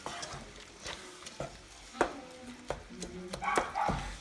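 Beef cooking in a pan, with scattered utensil knocks, scrapes and stirring clatter over a soft, low sizzle. The clattering comes in irregular bursts and grows busier near the end.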